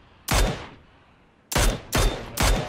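Rifle shots ring out in PUBG, one loud crack followed after a pause by three more in quick succession, each with a sharp attack and a decaying echo.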